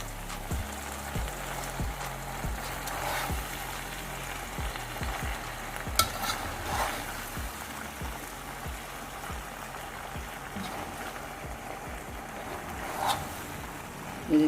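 Spicy macaroni stirred and mixed in a pan, with a steady bed of sizzling and repeated scraping strokes of a spoon against the pan. The sound is close and continuous, with no talk over it.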